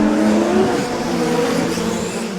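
Small 1/28-scale electric radio-controlled Mini-Z cars race on a dedicated track, producing a steady, continuous whine with shifting pitches from several motors and occasional tire squeal, loud and close throughout.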